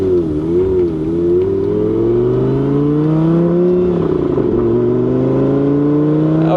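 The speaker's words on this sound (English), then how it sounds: "Gallardos always have a lot of transmission whine, I've noticed" Lamborghini Gallardo Spider under way, its engine a loud, steady drone overlaid by a transmission whine that rises and dips in pitch, continuous throughout with no voices.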